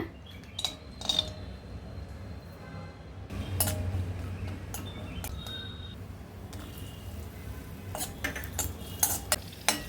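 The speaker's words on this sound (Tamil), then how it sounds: "இந்த நெய்யில் முந்திரி பருப்பையும் கிஸ்மிஸையும் வறுத்து எடுத்துக்கலாங்க" Cashews and raisins are fried in ghee in a kadai: a spoon clinks and scrapes against the metal in scattered bursts over a faint sizzle.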